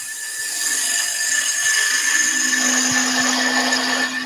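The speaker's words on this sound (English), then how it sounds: "And we've got a spindle gouge at the moment. Just shearing off that edge." A spindle gouge shears the edge of a wooden spinning top turning at 1500 rpm on a wood lathe, giving a steady close whirring hiss with a sustained low hum, continuous throughout.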